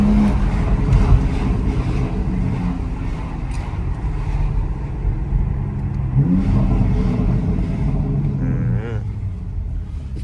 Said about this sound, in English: That comp exhaust.